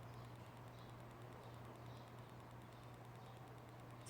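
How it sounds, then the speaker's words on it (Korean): An electric fan runs indoors, giving a steady, low droning hum with an even whir that stays constant throughout, with no voices. "삐걱거리면서 돌아가는 소리가 들리죠."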